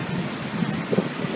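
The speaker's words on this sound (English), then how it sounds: "got a giant EMS, ESU emergency service truck here" An NYPD ESU Emergency Service Truck 1 idles on a city street at West 23rd Street and 5th Avenue, a low rumbling engine with brief air-brake hisses and a faint high tone over traffic.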